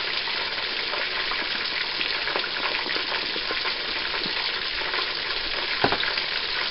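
Creamed spinach seasoned with garlic and pepper sizzles steadily in a pan while a spoon stirs it, a continuous close frying hiss with soft scraping and a sharper clack near the end.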